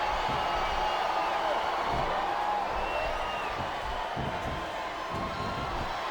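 Crowd noise from an arena wrestling video game, WWE SmackDown vs. Raw 2007, a steady dense roar of cheering and whoops that holds a constant level throughout, with no one speaking.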